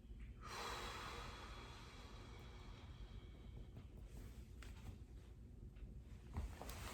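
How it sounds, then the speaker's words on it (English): A patient takes a deep breath in and exhales fully during a lung and thorax exam, a faint close airy breath swelling early and then a long soft exhale over light background noise. "One last time, take a deep breath and exhale fully."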